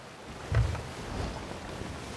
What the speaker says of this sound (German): das war schon ein Wind hier.